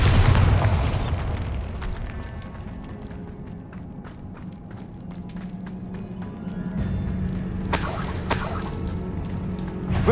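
In the video game Hogwarts Legacy, a Bombarda explosion spell lands with a heavy boom at the start, followed by rumbling debris, scattered crackles and a second burst of blasting noise near the end.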